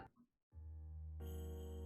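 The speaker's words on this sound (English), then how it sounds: "The phone keeps ringing." A phone rings in a Ghostface dating sim video game: a sustained electronic ringtone starts after a brief pause and swells louder partway through, heard alone and close.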